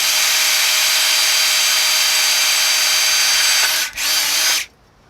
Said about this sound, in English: drilling the holes out now. It's a 1/4-inch bit.